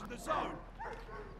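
Dogs barking and yipping in the Call of Duty: Vanguard beta, a short burst of game barks mixed with background noise.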